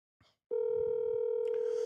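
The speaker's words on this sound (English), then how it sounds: "Let's call Keith." A brief click or noise is followed by a steady telephone dial tone that sounds loud and constant while a call is placed.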